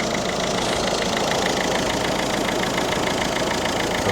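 A Citroen C4 1.6 HDI diesel engine idles to warm up, a steady close rumble with rhythmic knocking clatter and a constant hum, unchanging throughout.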